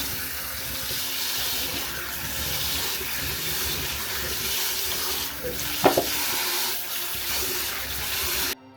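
Small green ume plums rinsed gently under a running kitchen tap, a steady close rush of water with a faint splash or clink partway through.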